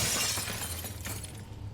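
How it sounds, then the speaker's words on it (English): Glass shattering in a Source Engine video game, a bright, crunching break that rings out and decays over under two seconds, fairly quiet in the mix. "Except breaking this glass."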